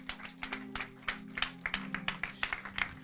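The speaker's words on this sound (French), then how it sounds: "Acclamons le Seigneur" A church congregation claps together in praise of the Lord, a quick uneven run of sharp hand claps over a steady low hum, moderately near and fairly quiet.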